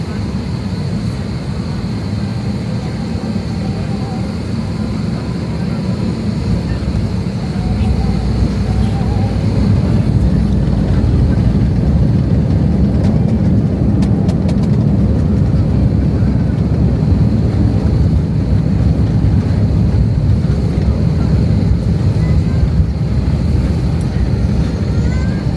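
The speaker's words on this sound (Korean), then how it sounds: "착륙합니다." Vueling airliner landing at Barcelona airport, heard from inside the cabin as a steady, loud low roar of engines and airflow that swells slightly mid-way and holds without pause.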